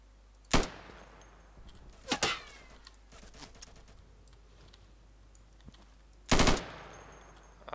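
Automatic gunfire in the tactical shooter game Insurgency, three short loud bursts spread apart with quieter clatter between them, heard up close and without talk.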